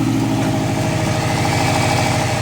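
A Prodrive Subaru STi engine runs steadily at idle for a couple of seconds, a loud, close, continuous low rumble with no voices over it.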